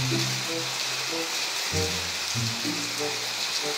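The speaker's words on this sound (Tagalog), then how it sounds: "Inaabot na naman kami ng ulan, pambihira talaga." Rain falls at the Cagsawa Ruins as a steady broadband hiss, with low tonal murmurs underneath.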